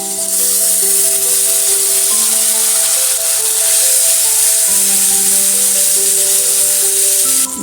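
Ground spice paste and powdered spices go into a pan of fried potatoes for a pointed gourd and soybean curry, giving a loud, steady, hissing sizzle that holds throughout with a sustained tone running underneath it.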